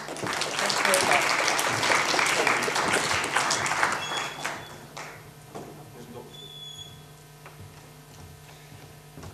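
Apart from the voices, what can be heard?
audience applause for speakers David and Julia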